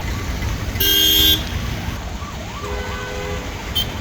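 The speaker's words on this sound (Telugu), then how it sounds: "మధ్యలో ఒక అంబులెన్స్ కూడా ఇరుక్కుపోయిన దృశ్యాలు మనం చూస్తున్నాం" Ambulance siren wailing amid heavy traffic beside a flyover construction site in Guntur, rising and falling in a steady sweep over constant road noise, with a brief loud horn toot early on.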